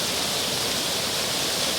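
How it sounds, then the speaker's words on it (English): The Delaware River rushes past in a steady, loud, unbroken hiss of flowing water, heard close up with no voices. "this is the Delaware River"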